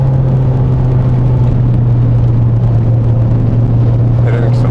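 A 1991 BMW E30 M3 driving on the road, its engine a loud, steady low drone with a strong constant hum and road rumble, heard close from inside the car without letup.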